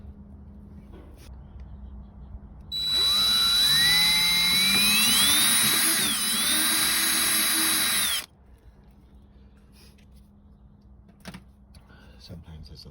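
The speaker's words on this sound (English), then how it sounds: "drill through the centerpiece here with a 1/8 inch drill bit" A power drill with a 1/8 inch bit boring through a plastic centerpiece on a 2016 BMW X3 during hitch installation, a loud whine lasting about five seconds that shifts in pitch under load, with quieter handling noise before and after.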